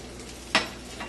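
An egg omelette sizzles softly in a pan, broken by one brief, close scrape as a spatula presses it down. No voices.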